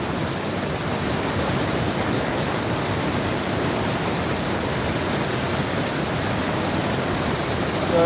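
The Orange River rushing past at about 82,000 liters per second, a steady, dense roar of flowing water that stays constant and fairly loud with no break.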